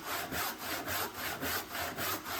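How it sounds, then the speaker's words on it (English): Wood is hand-sawn on a homemade workbench in steady, rhythmic back-and-forth strokes, about eight rasping passes, close and fairly quiet with no other sounds. "So cutting the wood is a lot faster and a lot easier on my arms too."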